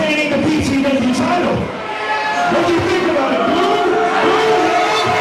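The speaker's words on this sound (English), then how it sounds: "The crowd here at River Oaks not a big fan of the result of the last matchup" Wrestling crowd at an indoor River Oaks show reacting to a match result, a sustained loud murmur of voices and jeers that fills the whole stretch.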